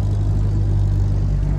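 A car engine runs steadily with the hood open, a constant low drone holding a strong, even hum throughout with no clear rev swells, close and loud with no voices.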